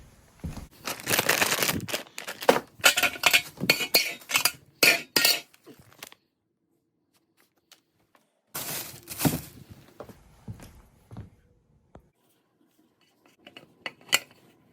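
Unboxing of a Sunco telescoping ladder: close, busy rustling and crinkling of packaging mixed with clinks and knocks of metal parts, in dense bursts with quiet pauses between.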